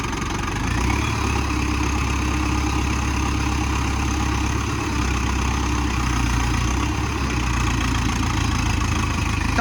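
A tractor engine idles steadily and loudly in the middle of a field, a continuous low chugging rumble that holds even throughout without pauses; the tractor is running on three wheels.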